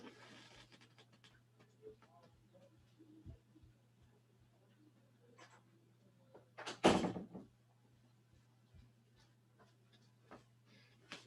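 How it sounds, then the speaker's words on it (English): A door being closed in a workshop hall, one brief loud knock of the closing near the middle, set among faint shuffling and small thumps over a steady low hum. "I'm just gonna go and close that door so we don't get disturbed."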